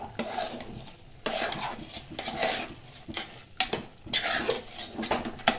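A ladle stirring a ghee-rich cooked festival dish around a pan, with repeated scraping and mixing strokes in bursts, close and fairly loud with faint sizzling between strokes.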